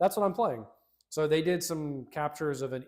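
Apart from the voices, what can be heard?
No everyday noises stand out.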